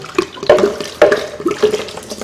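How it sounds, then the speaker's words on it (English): Water pours into a bowl of nut cheese while a raw-food dish is being made, giving a close splashing, gurgling stream with uneven bursts and no talk. "We're going to add some water to that."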